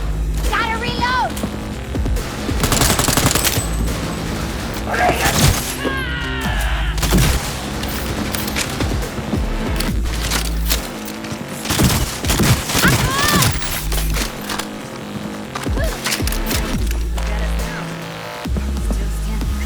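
Sustained gunfire in the video game Cyberpunk 2077, with dense bursts of shots and booming impacts running throughout, loud and close, with a voice talking over the shooting.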